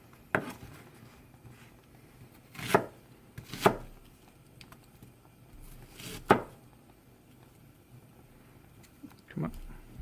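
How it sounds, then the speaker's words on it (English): Knife chopping onions into medium pieces on a cutting board for a tomato meat sauce, a handful of distinct, fairly close chops spaced a second or more apart, with quiet pauses between. "I will not make these onions cut too fine, just medium sized"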